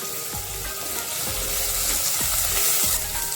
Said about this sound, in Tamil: பெரிய வெங்காயம் கொஞ்சம் கட் பண்ணி வச்சுருக்கேன் தாளிப்புக்கு அதை மட்டும் சேர்த்துக்கலாம் கருவேப்பிலை கொஞ்சம் சேர்த்துக்கலாம்